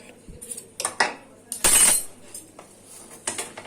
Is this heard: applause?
no